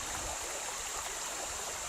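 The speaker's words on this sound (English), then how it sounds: "There's my creek." Creek water flows steadily near the hunting grounds, making a continuous, even rushing and trickling wash with no voices.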